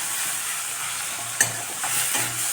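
One large tomato sautés in a pan for a quick pulao, a soft steady sizzle with a sharp spatula scrape and several gentle stirring strokes.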